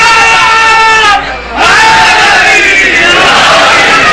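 A large crowd shouts loudly in unison, voices rising together in chanted calls, briefly dipping before surging again.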